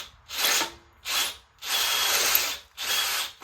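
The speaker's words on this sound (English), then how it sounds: "My chuck and my drill's getting worn out, so the bits keep spinning" A worn power drill with a slipping chuck bores out a broken stud in a big-block 454 engine block, four loud whining bursts separated by short pauses, close up with no talking.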